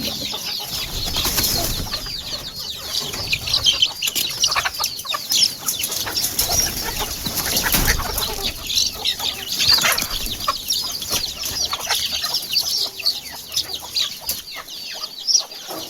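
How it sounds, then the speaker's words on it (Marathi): Farm chickens clucking steadily as they are let out of their coop, a busy continuous flock chatter with occasional wing flaps, close and fairly loud throughout. "आता कोंबड्या सोडायच्यात."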